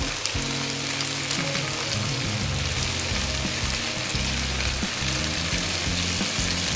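Garlic frying in a pan for bami goreng, Indonesian stir-fried noodles, a steady dense sizzle with crackling pops that holds evenly throughout, close and loud, with no voices.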